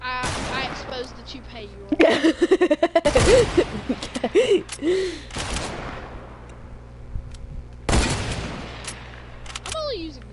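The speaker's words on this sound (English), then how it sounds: "Gotta use the heavy sniper." A heavy sniper rifle in a video game fires a few sharp, loud blasts spaced several seconds apart, with a player talking over and between the shots.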